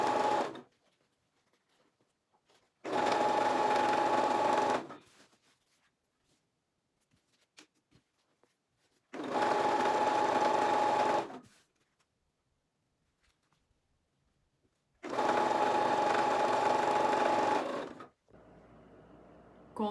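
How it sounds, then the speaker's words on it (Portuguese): A sewing machine joins strips of plain tricoline fabric for a dish towel, running in three separate bursts of fast, even whirring stitches, each about two to three seconds long, with quiet gaps and small handling noises in between. "vamos passar uma costurinha para unir essas três"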